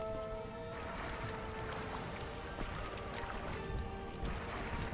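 Ships moving at sea in the video game Crusader Kings 2, a faint steady wash of water and creaking under a low ambient drone, quiet and continuous with no speech.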